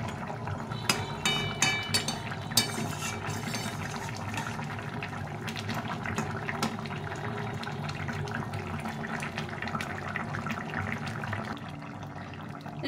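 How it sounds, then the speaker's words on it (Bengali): Bata fish curry in mustard paste with long black eggplant simmers in a pot, a steady close bubbling hiss with occasional soft pops, no voices. "তো এটা দিয়ে একটু ফুটিয়ে নিতে হবে, ফুটিয়ে নিয়ে আমি এটাকে নামিয়ে দেবো।"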